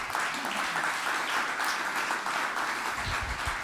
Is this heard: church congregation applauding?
yes